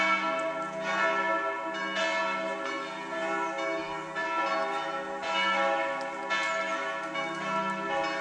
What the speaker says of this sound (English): Look, the sound of the bells as well.